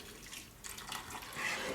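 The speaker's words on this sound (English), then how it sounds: "And 1½ cups of boiling water fresh out of the kettle." Freshly boiled water from a kettle poured into a saucepan holding maple syrup, a soft continuous splashing and trickling that swells slightly toward the end.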